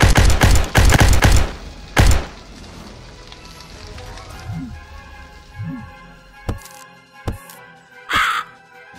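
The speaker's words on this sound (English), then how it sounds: "Mutant crows have ravaged." Mutant crows in a video game give a few harsh caws over a noisy, crackling background, after several loud bursts and sharp clicks, with sounds scattered unevenly across the stretch.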